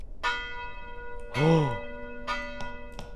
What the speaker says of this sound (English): Press 3 to ring the bell.